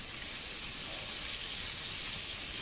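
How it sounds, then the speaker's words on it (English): Meat slow cooking over a reduced campfire flame while rough camping in bushland, a steady close sizzle and hiss with no break through the whole stretch and no talk. "Slow cook on the meat."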